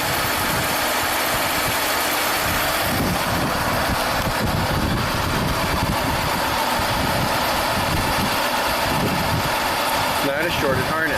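A 1995 Buick Riviera's supercharged V6 idles steadily with an uneven, stumbling misfire, the rough engine drone running throughout with voices talking over it.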